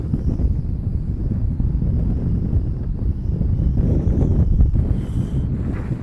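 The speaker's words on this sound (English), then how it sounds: "there is wind out there, so it's really... I think that's wind." Strong wind buffets the microphone outdoors on a fishing trip at sea, a steady low rumbling roar that runs the whole time with no talk.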